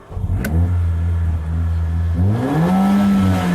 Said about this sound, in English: You can't help firing this Mercedes up